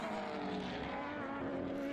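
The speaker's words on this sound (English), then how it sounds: "Great sound from the World Series car." A Formula BOSS World Series race car passes on a circuit at a Leinster Trophy round in Ireland, its engine a loud, sustained high-revving drone heard alone throughout.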